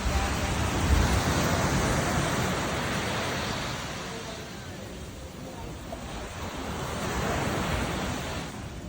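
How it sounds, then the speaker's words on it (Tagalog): Sea waves washing on a shore, a continuous broadband surf roar with slow swells in loudness and some wind, no voices clearly audible over it. "Ganda-ganda ng dagat."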